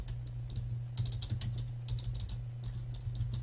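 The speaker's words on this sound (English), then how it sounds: "I might just type it out right here" Computer keyboard typing: a run of light, irregular keystroke clicks at close range over a steady low electrical hum, with no talking.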